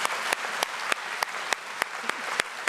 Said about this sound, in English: So I'm asking you, let's give them a round of applause.